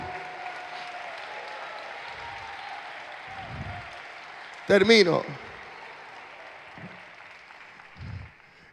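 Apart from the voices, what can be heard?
congregation applauding in church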